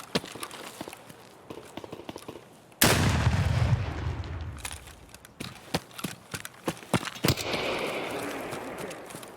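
SKS rifle gunfire in the video game Escape from Tarkov, in the woods: a loud blast followed by a string of sharp, irregular shots.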